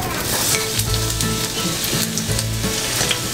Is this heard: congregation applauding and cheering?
no